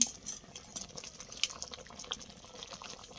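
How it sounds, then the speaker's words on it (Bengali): Vegetable curry boiling in a pot gives off soft, continuous bubbling with small pops and crackles, quiet and close, with no voices. "এইটা এখন সেদ্ধ হচ্ছে"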